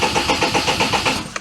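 A Daihatsu Charade engine cranks over steadily on the starter without firing, a fast, even rhythmic churn of about a dozen compression pulses, close and loud, then cutting off.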